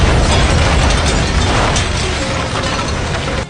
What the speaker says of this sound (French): Peu après leur sortie, la maison avait explosé.